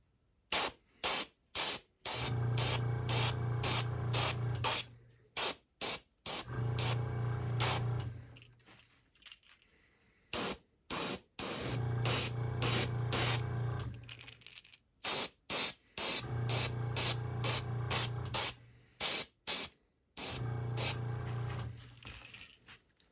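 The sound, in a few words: airbrush spraying paint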